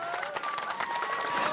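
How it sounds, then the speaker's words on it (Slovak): A crowd applauds at the start of the fourth stage of the Káčer na bicykli 2017 charity ride in Detva, steady dense clapping outdoors under a faint tonal whine. "Obrovský potlesk!"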